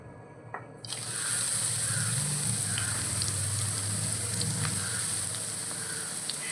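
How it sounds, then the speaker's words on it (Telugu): Spices crackling and sizzling in hot oil for a tempering, with curry leaves going in; the sizzle bursts on after a quiet moment and holds steady and close with small pops. "ఒక్కొక్కటి తాలింపులో వేసేద్దాం."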